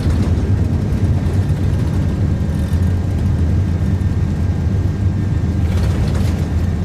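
A simulated iniBuilds A330 airliner in Microsoft Flight Simulator 2024 rolls for takeoff at takeoff power, its engines giving a loud, steady, dense roar with a low rumble throughout.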